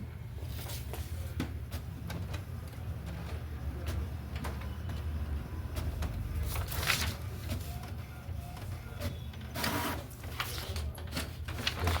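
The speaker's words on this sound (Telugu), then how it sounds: "చూడండి, ఇప్పుడు ప్రింట్ అయితే వస్తుంది మనకు చూడండి" A printer runs a freshly fitted ink cartridge through an alignment test page, giving a steady mechanical whir with repeated clicks and carriage shuttling throughout, close and clear, with no talking.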